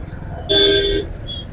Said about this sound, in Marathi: फुल ट्रॅफिक आहे आज.